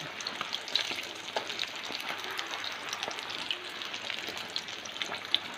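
Fish sizzling in hot oil, a steady dense crackle and spatter that runs without a break, close and moderately loud with no voices.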